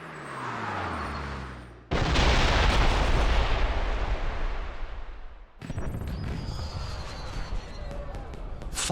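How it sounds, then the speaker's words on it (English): Fireworks burst in the James Bond 007: Blood Stone video game, a loud sudden blast followed by sustained crackling and booming explosions that carry on over several seconds. "Did you know there were going to be fireworks?"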